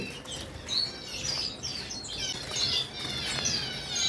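Pet birds, albino birds and blue-face parrots, chirping in a bird breeding farm, with several short high tweets scattered over a low room hum at moderate distance and no talking.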